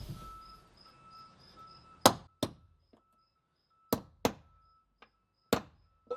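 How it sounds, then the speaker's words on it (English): Sharp metallic taps ring out in pairs and singles, crisp and close, each followed by silence as a nail set drives a nail into wooden deck boards. "use a nail set and just give it a couple taps"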